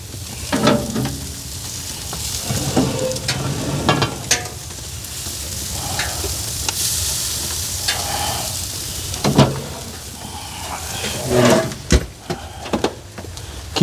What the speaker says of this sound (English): they're also just sizzling away over there, just stirring them up occasionally